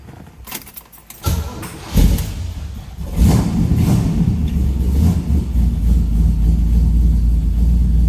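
Keys jingle, then a 1969 Chevrolet Camaro Z/28 engine cranks and catches with a burst, settling into a heavy, deep V8 rumble that swells with revs and keeps running loudly.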